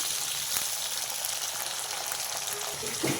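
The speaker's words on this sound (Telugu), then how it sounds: "స్టవ్ సిమ్లో పెట్టి మగ్గించుకోండి దొండకాయ నూనెలో" Ivy gourd slowly cooking in oil over a low flame gives off a steady, soft sizzle and hiss that continues without pause, with a few faint stirring clicks near the end.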